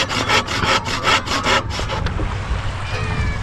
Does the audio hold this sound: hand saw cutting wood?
yes